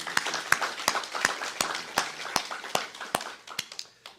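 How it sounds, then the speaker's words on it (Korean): A church congregation claps during a Sunday service, sharp hand claps landing in a loose, roughly steady rhythm about every third of a second. The claps sound fairly close with moderate loudness over a soft room wash. "우리 하나님께 영광의 박수 올려드립니다."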